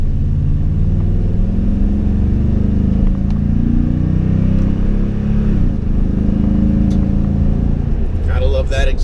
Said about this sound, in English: let's do a good acceleration here while we have the room